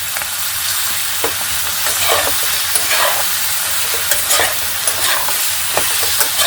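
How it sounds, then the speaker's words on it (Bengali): Taro stolons fry in a pan seasoned with cumin powder, giving a loud, steady close sizzle with intermittent scraping clicks of stirring throughout. "এখন আমি কচুর চাগুলো দিয়ে দেব আমি ধুয়ে নিয়েছি কেটে"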